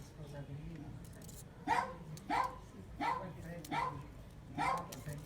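A dog barks five times in a steady, evenly spaced series from somewhere close behind an oak tree, each bark a clear separate burst, with a low outdoor background murmur and some voices around it.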